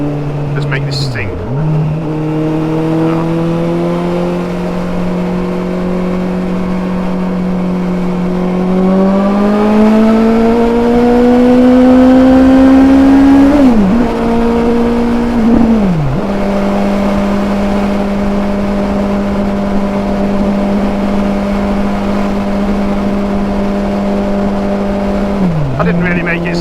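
A car engine drones steadily while driving, rising in pitch as it accelerates through the gears, with brief dips at each shift, loud and close throughout.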